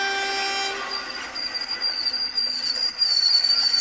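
Animated train sound effect: a horn and rolling clatter as the train runs, then squealing wheels and brakes while it slows to a stop, moderately loud with no voices.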